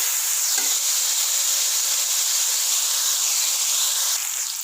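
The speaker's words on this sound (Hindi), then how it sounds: "तकरीबन 1 से 2 मिनट इसको भूनेंगे हम अच्छे से" Green peas (matar) frying in a pan for pulao, a loud, steady hiss of sizzling oil that runs continuously and close up, fading slightly at the end.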